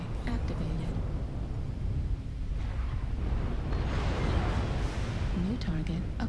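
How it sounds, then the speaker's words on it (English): Artillery strike explosions rumble in a video game, a continuous deep roar of distant blasts and heavy low rumble lasting several seconds, with faint whistling and mechanical tones layered over it. "Artillery strike activated."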